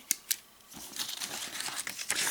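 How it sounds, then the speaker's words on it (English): Small scissors on a Whitby pocket knife snipping, giving two quick distinct clicks near the start and then a steady crinkly rustle of light cutting and handling, close up with no talk. "Doesn't give a great deal of movement on those scissors."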